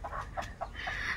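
Chickens cluck at a home yard beside a goat shed, giving several short, close clucks in an uneven rhythm with no talking.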